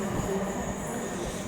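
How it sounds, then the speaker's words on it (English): A Trans-Pennine Express train at Durham station gives off a steady, loud rumble and hum throughout, heard close by on the platform with no speech over it. "And then my train is just back here."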